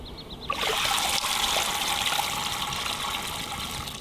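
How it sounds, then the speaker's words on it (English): Water in a pot, used for cleaning beehive frames outdoors, rises toward a boil with a sudden onset of bubbling and hissing that continues steadily and fairly quietly, with no talk. "I think our water's starting to boil here."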